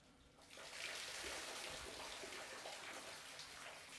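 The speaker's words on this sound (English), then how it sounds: "So we got a waterfall back there." Steady rushing water pours continuously, a broad wash of splashing that swells in after a quiet start and holds at a moderate, close level.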